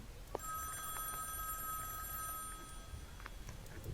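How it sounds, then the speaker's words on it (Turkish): An old-style telephone rings in the horror game Phantom Knock, a sustained bright electronic ring lasting about three seconds, moderately near, over a quiet room ambience. "Ha, telefon çalıyor."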